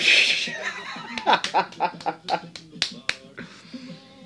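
One person claps a steady run of about eight crisp beats during a Stonewall Jackson recruitment scene, close by, with chuckling voices and talk mixed around the claps.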